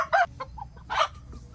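A few backyard-farm hens cluck in short, choppy bursts nearby, with soft farmyard background noise between the calls.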